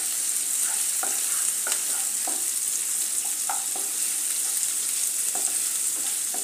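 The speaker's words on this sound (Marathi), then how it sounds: "यातच आपल्याला थोडासा कोबी घेतलेला आहे, 2 चमचे, तोही याच्यामध्ये रोस्ट करून घेऊया।" Shredded cabbage roasting in a pan with onion, a steady soft sizzle broken by repeated scrapes and taps of a spoon stirring close by.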